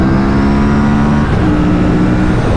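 A 2024 Aprilia RS 457 motorcycle engine revs loud and close, a continuous throaty drone that shifts pitch slightly partway through, with no voices.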